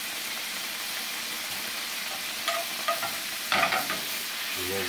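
A white wine reduction with lime juice sizzles softly in a pan, with a few brief stirring scrapes breaking through the low frying hiss.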